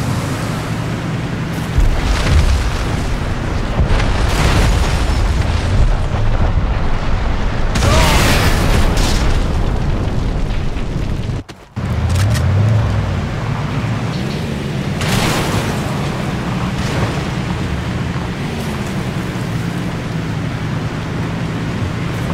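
Loud, continuous rumbling booms and blasts from a countdown explosion in the game Crysis roll on for a long stretch, with one brief cutout midway before the roaring resumes.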